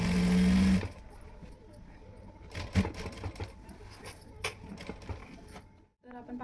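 A sewing machine runs fast and steady at first while stitching a border onto a top made from an Ilkal sari, then stops, leaving scattered clicks and handling knocks.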